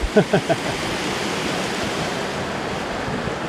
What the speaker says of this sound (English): This is an awesome year-round creek.